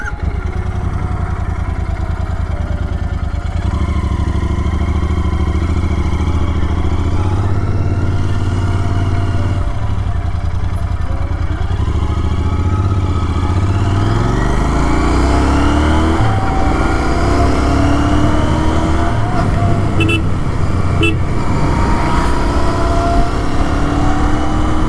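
Royal Enfield GT 650 twin-cylinder motorcycle being ridden, its steady close engine drone rising and falling through gear changes and throttle, with wind rush and revs climbing in long sweeps, no talk.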